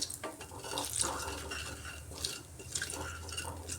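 Black cumin seeds crackle and spit as they temper in hot oil for sorshe potol, a close, busy sizzle with small bursts and faint clinks of a pan, without speech.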